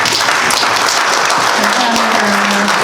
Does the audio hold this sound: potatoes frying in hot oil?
no